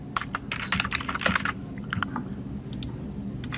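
Someone types text on a computer keyboard while working in Photoshop, a quick irregular run of crisp key clicks that bunch together and then thin out to a few isolated taps, close and clear with no talking.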